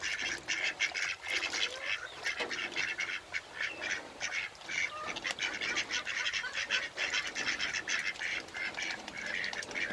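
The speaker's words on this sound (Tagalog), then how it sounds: "O si Itik naman." Ducks quack in repeated, overlapping bursts that run through the whole stretch, fairly close and loud, with a few louder calls standing out over a steady background of calls.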